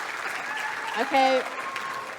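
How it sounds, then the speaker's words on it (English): Steady applause from an audience at a children's showcase, a continuous patter of clapping with a brief spoken word over it. "everyone give a round of applause"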